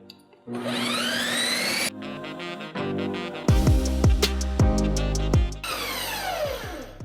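Ninja Creami machine spinning on the light ice cream setting, loud and close with a steady motor whine, repeated rising and falling pitch sweeps, and sharp clattering knocks from the blade grinding a frozen vanilla mint base.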